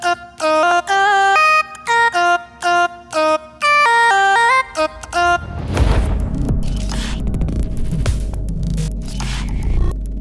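A bright vocal lead synth plays a choppy run of chords for about five seconds, then gives way to a dense, noisy wash of low rumble and static.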